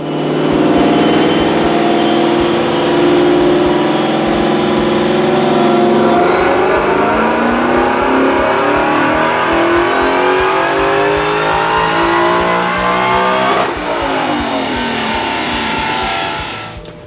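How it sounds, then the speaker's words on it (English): Supercharged Whipple-equipped Ford F-150 engine on a dyno, loud and close, climbing steadily through the revs in long sustained pulls with a gear change around the middle before winding down. "we're just going to go with the first dyno pull and see what we get"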